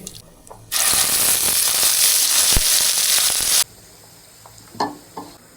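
Whole garam masala and cumin seeds hitting a hot wok, a sudden loud hiss of sizzling that holds for about three seconds and then cuts off, followed by faint clinks.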